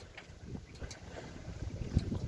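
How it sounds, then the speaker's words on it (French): A sailboat's front sail (jib) flaps and shivers in the wind while sailing solo offshore, giving a soft, fluttering rustle under steady wind and water noise, fairly faint and continuous. "ma voile d'avant tremble donc ma voile d'avant faceille"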